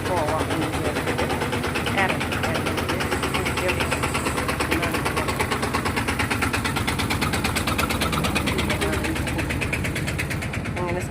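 A scooter engine drones steadily and loudly with a constant vibrating hum and no breaks, heard while it is ridden slowly home on a road trip from Thrissur to Peechi.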